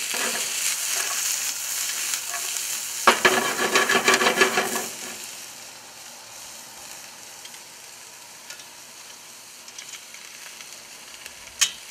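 Bratwursts and tri-tip cook on a hot surface with a steady close sizzle. A short burst of louder crackling and scraping comes early, then the frying settles into a quieter hiss with occasional pops.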